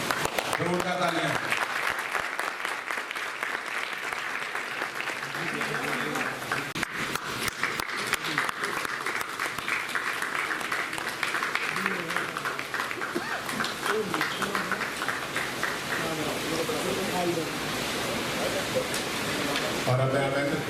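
Enthusiastic crowd applause at a three-day theatre festival in Tikamgarh, a continuous wash of clapping under occasional voices that holds steady for the whole stretch.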